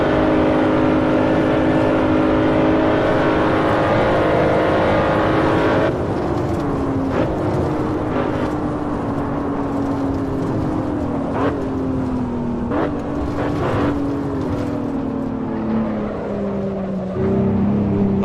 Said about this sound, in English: it's still accelerating, even going up the hill in 6th gear